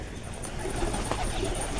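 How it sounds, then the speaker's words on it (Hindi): Pigeons coo and flutter amid a busy, noisy outdoor background, soft bird calls blending with broadband hiss. "ये देखो कबूतर आ रहे हैं सारे"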